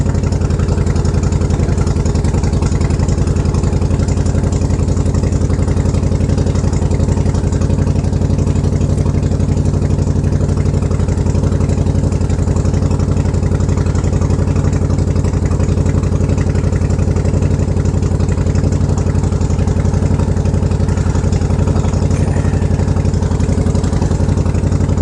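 A cold motorcycle engine idles loud and close while it warms up, a steady, deep, throbbing rumble that holds unbroken the whole time.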